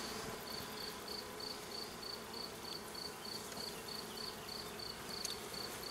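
Honeybees at an open Layens hive in an apiary, a dense steady buzzing hum close by, with a periodic high chirping of crickets in the background.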